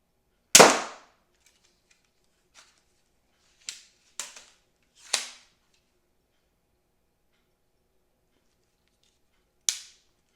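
Barnett Demun TriStrike mini crossbow firing: one loud, sharp snap opens, followed by several quieter clicks and snaps spaced a second or more apart, with no talk over them.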